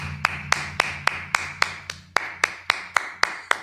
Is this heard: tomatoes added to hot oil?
no